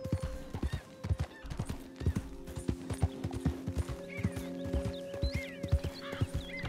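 Horse hooves clip-clop in a brisk, regular rhythm in the video game Red Dead Redemption 2, close and clear, with a horse whinnying partway through and game music tones sounding underneath.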